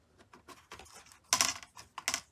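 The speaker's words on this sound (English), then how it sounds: "Now for the keyboard, it's very similar. We can also just lift it up, pull on it a bit," Keyboard of a Lenovo T60 laptop being lifted and pried out during disassembly, a series of light plastic clicks and taps with a couple of sharper snaps near the end, close and fairly quiet.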